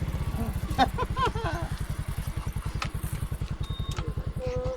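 A motorcycle engine putters steadily at idle on a ride to Kampung Sokor, a low rapid thumping throughout, with some faint clatter and a few brief chirpy sounds above it.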